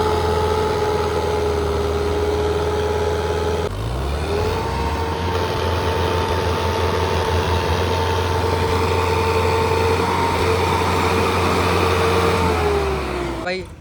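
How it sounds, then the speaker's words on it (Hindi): Indo Farm and Preet tractors running side by side, a steady low diesel drone with a shifting pitch partway through, continuous and fairly close. "देखते हैं भाई कैसा क्या रिस्पॉन्स लगाते हैं दोनों ट्रैक्टर अपने"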